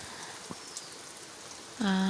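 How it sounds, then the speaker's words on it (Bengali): Steady heavy rain hisses softly throughout, then a sustained tonal hum with harmonics cuts in near the end. "সকাল থেকে প্রচুর বৃষ্টি হয় রে সে বৃষ্টি মানে বাড়ানো যায় নি প্রচুর বৃষ্টি হয় রে"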